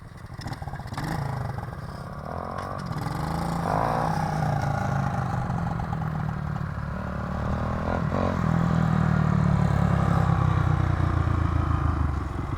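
A 2006 Honda CRF 450 dirt bike engine runs steadily at mid distance, its pitch rising and falling through revs and growing louder toward the end, with no talk over it.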